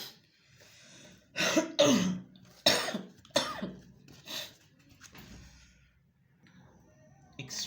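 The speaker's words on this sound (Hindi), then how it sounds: "मुझे आज बहुत ज़्यादा खांसी हो रही है" A woman coughs in several harsh bursts, close to the microphone, with throat clearing and quiet pauses between the fits and no speech.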